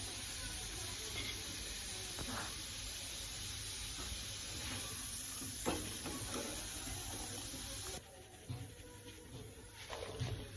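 Roasted chickpeas frying in a pan for poha chivda, a faint steady sizzle and hiss with occasional soft stirring scrapes and clicks, growing quieter toward the end.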